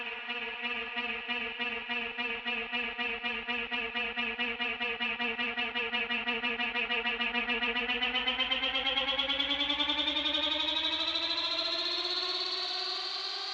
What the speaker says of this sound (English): on the second build up, I made this vocal risers effect